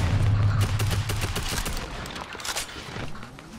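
Dense bursts of gunfire from the video game Fortnite crackle and rattle in fast overlapping volleys, loud and continuous over a low rumble of game noise, with no talk.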